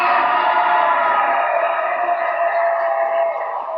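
Audience at a talk cheering and shouting loudly to vote for a contestant, a dense continuous crowd roar with whoops that fades slightly toward the end.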